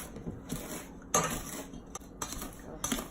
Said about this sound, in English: And then you're going to cut up all the butter.